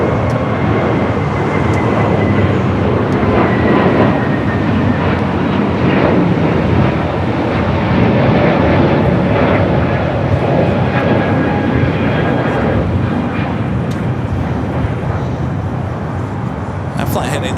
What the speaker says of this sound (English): Frontier A321neo next up for takeoff